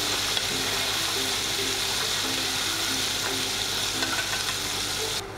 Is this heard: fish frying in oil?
yes